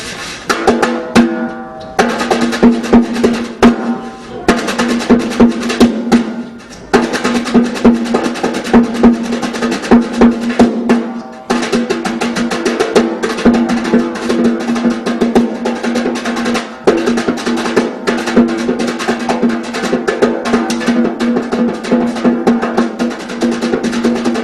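Drum brushes on a snare imitating a tap dancer's toe and heel taps, with a steady stream of brisk swishes and crisp taps over a sustained musical tone, loud and continuous for about twenty-five seconds.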